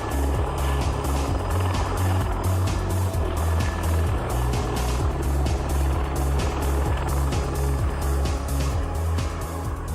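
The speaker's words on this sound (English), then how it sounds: "The Osprey takes off like a helicopter, and then as the aircraft gains speed, the rotors gradually tilt into a normal airplane position." A V-22 Osprey tiltrotor aircraft lifts off like a helicopter, its rotors throwing out a loud, steady, rapid thumping beat over a dense roar that stays constant and close throughout.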